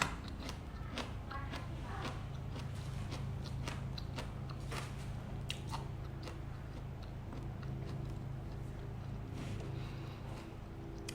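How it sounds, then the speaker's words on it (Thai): Crunchy chewing of fresh leaves or produce just picked from the plant, steady close bites and crunches repeating over a constant low background hum, with no talking. "จะพยายามเคี้ยวให้เยอะๆ"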